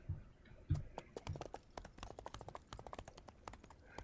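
Horse hooves clip-clopping in the video game Chimeraland, a fast irregular series of sharp taps with a few heavier low thuds early on, moderately close and quiet, no talk.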